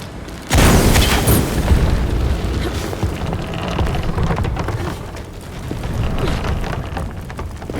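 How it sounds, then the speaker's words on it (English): A heavy explosion booms in the video game Shadow of the Tomb Raider, a sudden loud blast that trails into a long rumbling, debris-like roar that stays fairly loud to the end. "An explosion would help me reach the pendulum."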